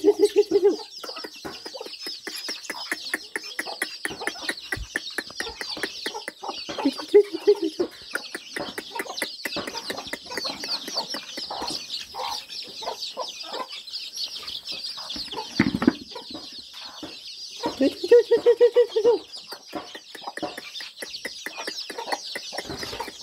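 Chickens cluck steadily through the whole stretch at close range, with occasional louder rooster-like calls standing out, in a busy farmyard with no talking.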